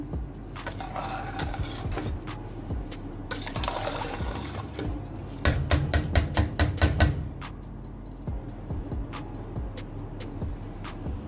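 Rice is stirred into a pot of mutton pulao, with soft wet scraping and a brief burst of rapid spoon knocks against the pot, otherwise quiet.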